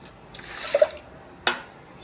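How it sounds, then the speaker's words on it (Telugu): Water is poured from a cup into washed toor dal in a pot, a brief soft splash and gurgle followed by a single sharp knock, close and moderately quiet. "2 కప్పులు వాటర్ అనేది యాడ్ చేస్తున్నాను"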